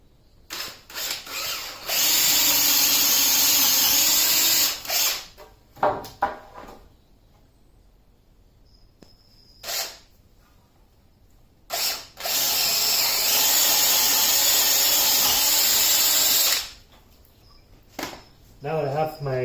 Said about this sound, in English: So from here, I can go ahead and start drilling.